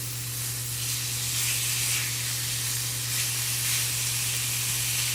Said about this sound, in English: just kind of let the meat brown